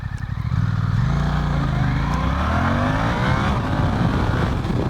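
Suzuki GSX-8S motorcycle accelerating hard from a standstill in first gear on a road, engine note rising loud and close with a quick gear change, steady strong revving throughout.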